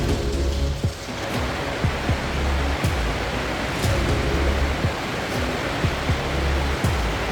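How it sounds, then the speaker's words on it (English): A small waterfall inside Hidden River Cave gives off a constant broadband splashing rush, with faint repeated thuds and clicks layered over the water noise throughout. "It's a pretty small waterfall."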